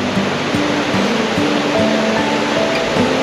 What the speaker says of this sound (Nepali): खोलाको आवाज सुन्दा